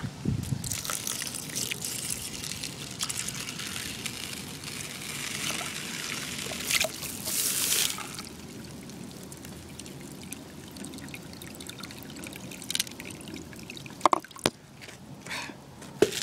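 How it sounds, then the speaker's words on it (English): Water pours steadily into a blood worm culture container and trickles for several seconds, with splashing bursts, then quieter dribbling and a few clinks near the end. "And you're going to pour your water in."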